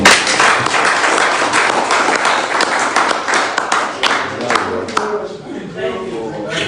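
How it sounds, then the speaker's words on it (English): A crowd at a Take It Back town hall meeting in Athens gives a round of applause. The clapping is dense and steady, heard close, with someone speaking over it. "Please, a round of applause for"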